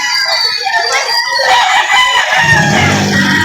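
Rooster crowing loudly among other chickens at a busy outdoor poultry market in Lipa City, Batangas, with clucking fowl and crowd noise around it.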